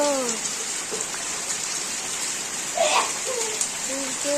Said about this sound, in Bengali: এখানে এখন বৃষ্টি হচ্ছে